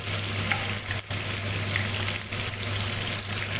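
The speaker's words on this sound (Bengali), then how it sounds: "দেখো চিকেনগুলো ভাজা হচ্ছে, ভালো করে ভাজবে" Chicken pieces fry in a pan over high heat, giving a steady, dense sizzle that holds throughout at close range, with a faint low hum beneath and a couple of brief dips from stirring.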